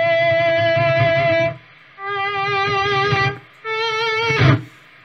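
Three separate sustained notes ring out from a distorted electric guitar tone in Reaper with reverb off, each held over a second and followed by a short silence, loud and dry with no speech.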